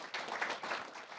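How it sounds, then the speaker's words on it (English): A conference audience claps briefly at a tech talk, a blurred, moderately loud patter of many hands lasting about a second. "Applause, please."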